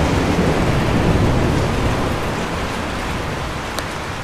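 Steady, dense rain roars loudly and evenly, a heavy downpour hissing without a break from start to finish.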